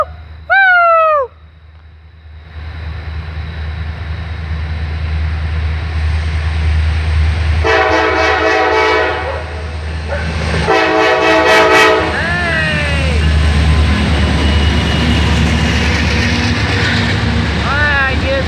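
A Norfolk Southern mixed freight train passes, its deep engine rumble building and holding steady as the horn blasts twice in long, loud blares, with someone shouting and whooping nearby.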